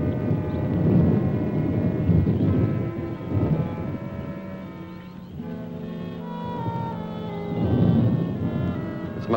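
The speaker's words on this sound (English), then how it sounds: "Just thunder." Deep, loud rolling thunder rumbles continuously with swelling peaks, outdoors in a 1955 film scene, with no speech over it.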